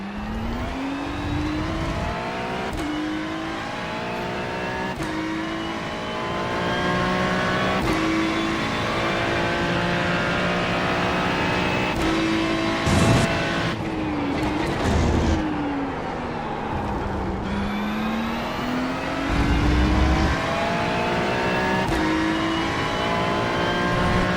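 Race car engines in a racing video game, droning steadily and revving with rising and falling pitch sweeps as cars run continuously at close range, the sound loud and sustained throughout.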